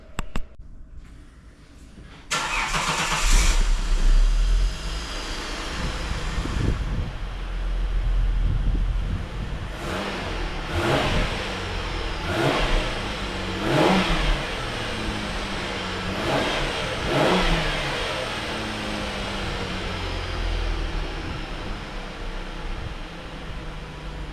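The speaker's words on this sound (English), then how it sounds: "I'll start the thing up and I'll show you what it sounds like out the back with a full stock exhaust." A VY car with factory headers and a full stock exhaust cranks and starts, then settles into a rumbling idle with several sharp revs rising and falling, heard from close behind.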